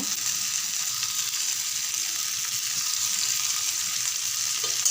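Fish frying in oil in a pan, a steady, close, even crackling hiss that holds without a break and with no talk.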